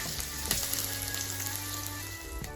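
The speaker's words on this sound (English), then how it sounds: "I'm going to add my onions once the oil is hot. I'm going to saute them for about 2 minutes." Onions sizzle steadily in hot oil in a pan, a continuous close crackle with a faint stir or tap now and then, no voices.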